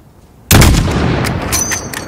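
A single sniper rifle shot in the Call of Duty: Modern Warfare video game, fired at a distant target: a loud sudden crack after a brief quiet, followed by a long rolling echo and faint clinks.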